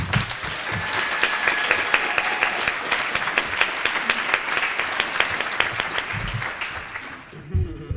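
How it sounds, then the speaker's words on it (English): Sustained audience applause at a community awards night in Pleasant Hill for an award recipient, a steady wash of clapping that tapers off near the end, with a few voices faintly underneath. "Please help me in applauding Mr. Mike Robertson."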